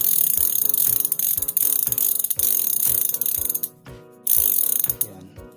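Rapid mechanical ratchet clicking of a spinning SunRace 8-speed 13-34T thread-type bicycle freewheel, in repeated bursts with brief pauses, close and fairly loud.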